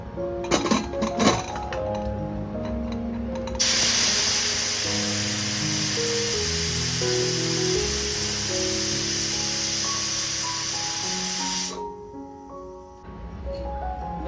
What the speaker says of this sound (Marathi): त्याला एक शिट्टी मारून द्यायची आहे मला